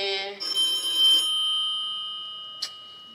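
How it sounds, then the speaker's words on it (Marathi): A home telephone rings with bright, bell-like tones that hang and fade slowly, followed by one short, sharp ring near the end, heard close and alone. "आता कोणाचा फोन?"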